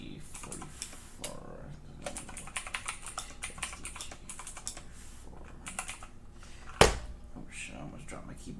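Rapid keyboard typing runs under a voice throughout, broken near the end by a single loud thump as the keyboard is nearly dropped.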